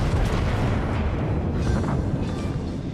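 Torpedoes striking and exploding in the naval video game World of Warships, a loud, dense booming roar that swells and sustains for a few seconds without talk.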